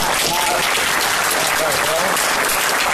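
An audience at a special board meeting on LAPD use of force claps steadily for the whole stretch, a dense, loud wash of applause with faint voices mixed in.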